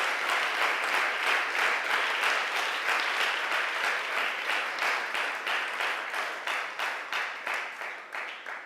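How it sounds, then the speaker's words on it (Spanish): A church congregation gives the Lord loud, sustained applause, a dense wash of many hands clapping in steady rhythmic pulses that fade slightly toward the end, with no talking over it. "Dele fuertes aplausos al Señor."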